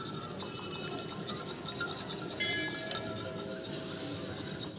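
Chocolate cake batter with butter being stirred in a bowl: continuous close scraping and light clinking of a spoon against the bowl, steady and fairly quiet, with no talk.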